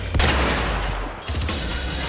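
Bursts of gunfire in a multiplayer shooter video game, loud and dense with a sharp shot near the start, then continuous rattling fire and game noise throughout, no talk.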